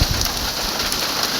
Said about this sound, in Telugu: చూడండి ఫుల్ జోరున వర్షం.